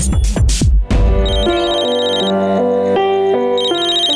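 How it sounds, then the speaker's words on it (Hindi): A phone rings with a loud, melodic electronic ringtone, a repeating sequence of bright tones following a few sharp percussive hits at the start. "आ गया उसका फोन।"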